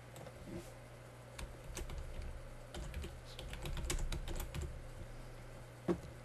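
Keys clatter on a computer keyboard as a file name is entered, a steady run of soft, close keystrokes that thins out toward the end, with one sharper click near the close.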